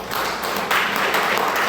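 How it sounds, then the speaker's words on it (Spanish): A church congregation claps together in a brief burst of applause lasting under two seconds, moderately loud and slightly muffled. "Dar un aplauso al Señor."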